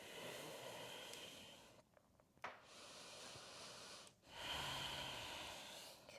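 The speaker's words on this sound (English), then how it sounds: "Breathing in out through the nose." Slow, steady nasal breathing during a yoga and strength training session with weights, long soft hissing inhales and exhales close to the microphone with brief pauses between breaths.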